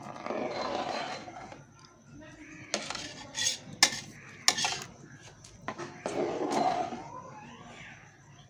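Boiled rice for chicken biryani is scooped out of a cooking pot, with scattered metal clinks and scrapes of a utensil against the pot between quieter stirring sounds.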